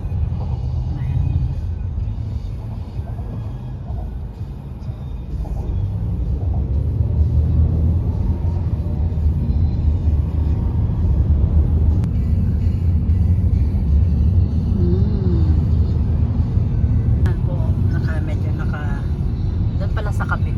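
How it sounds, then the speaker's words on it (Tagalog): Slow, heavy car traffic crawls across a bridge, a steady low engine rumble and road drone that swells midway, with occasional passing vehicle noise under someone speaking close by. "Pero mabagal din ang traffic dito, ang andar. Mabagal din. Maraming sasakyan."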